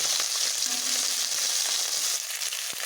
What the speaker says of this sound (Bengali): এইভাবে আস্তে আস্তে উল্টে নেব